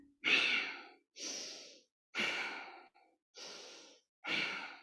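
Slow, deep breaths during a yoga breathing exercise, five audible breaths with airy exhales and inhales in an even rhythm, close to the mic with no talking over them.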